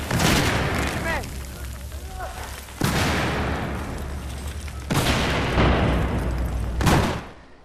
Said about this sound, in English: that was 4 grenades